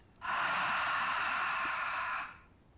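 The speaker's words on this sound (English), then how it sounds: "We'll finish with a deep breath in and an audible breath out." Deep, audible exhale at the close of a gentle beginner yoga routine, a single long breath out of about two seconds, close and fairly loud, breathy and airy throughout, then fading away into quiet.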